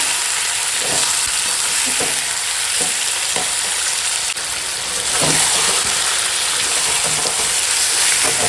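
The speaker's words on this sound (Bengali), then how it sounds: "এখন মাংসটা ভাজছি" Chicken pieces coated in ginger-garlic paste sizzle steadily in a pan, a dense, continuous frying hiss with occasional stirring scrapes, close and loud throughout.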